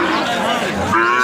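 A Sahiwal calf moos loudly and close at a cattle market, one sustained drawn-out call filling the whole moment.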